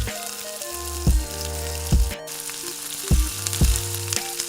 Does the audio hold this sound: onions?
yes